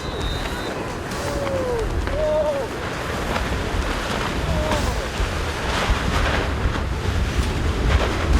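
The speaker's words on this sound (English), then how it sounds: "Sailboats rely on the wind, but when the wind gets too strong" Strong wind buffets a sailboat on open water as waves wash and surge around it, a steady, loud roar of gusts and surf with faint tonal creaks rising briefly near the start.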